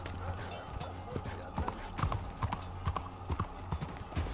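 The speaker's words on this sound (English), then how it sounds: "Okay, let's get my horse," Rhythmic hoofbeats of a galloping horse, steady and close, over a busy game soundscape with some voice in the background.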